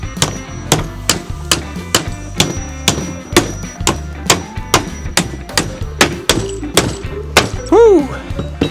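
Hammer blows knocking apart an old, moldy wooden pallet, a steady run of sharp, loud thunks roughly every half second, with a brief voiced exclamation near the end.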